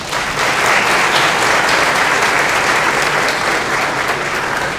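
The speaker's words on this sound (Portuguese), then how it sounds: "uma salva de palmas" An audience at an orchestra event claps loudly and steadily for several seconds, a dense wash of applause filling the room.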